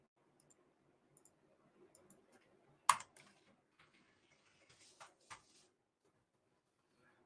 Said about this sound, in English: Ugh, that is not good typing.